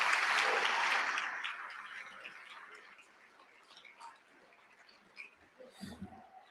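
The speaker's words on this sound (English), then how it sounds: "Can we give one big round of applause for our 40s?" Applause from a livestream audience honoring the Forty Under 40 class of 2026 fills the first couple of seconds, then trails off into scattered claps and faint room noise.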